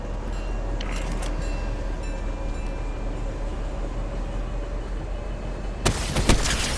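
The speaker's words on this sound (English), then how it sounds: "They're on the train." A train rolls along in the video game Fortnite, giving a steady, continuous rumble throughout, with sharp bursts near the end that sound like gunfire or impacts over the top.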